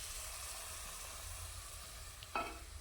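Ground spice paste drops into hot oil for a buttermilk curry, a sudden sizzle bursting out near the end after a steady low background hiss.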